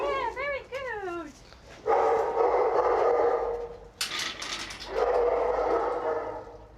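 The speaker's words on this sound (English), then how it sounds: "As soon as the other dogs were around, as soon as the barking started" Several dogs at a dog-fighting site bark and yelp, starting with a rising whimpering yip, then sustained loud barking in two long bouts separated by a brief pause, close by.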